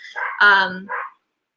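Dogs at a home give a short burst of a few close, loud barks and yips, then fall silent.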